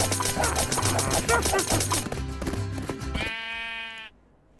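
Sheep in Minecraft bleat near the end as a short, buzzy, wavering cry after a stretch of rhythmic music, then the sound cuts off into near silence.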